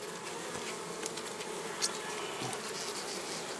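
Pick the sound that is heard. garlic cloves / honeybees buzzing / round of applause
honeybees buzzing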